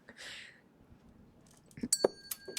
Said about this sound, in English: How did that bell even ding?